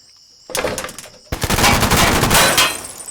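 Gunfire sound effect in an audio drama: a short burst of shots starts sharply, breaks off briefly, then a longer, louder volley of rapid automatic fire follows, close and dense, with no talking.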